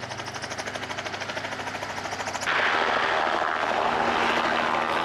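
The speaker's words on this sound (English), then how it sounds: "there's a helicopter here at the beach" A helicopter sits at a lake beach in a wintry Finnish setting, its rotor and engine giving a steady pulsing whir that grows louder and fuller midway, close by, with no talking.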